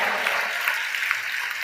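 A church congregation claps together in praise, producing a brief, even burst of dense applause with no pauses.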